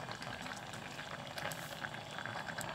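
A pot of Thai noni leaf curry with coconut milk and fish bubbling at a steady boil, a dense continuous simmering crackle with small pops, close and moderately quiet, with no voices.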